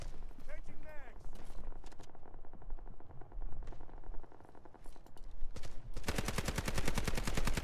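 Gunfire in the video game Delta Force: rapid bursts of automatic shots with scattered single cracks, ending in a dense, loud sustained burst, while a voice talks over part of it.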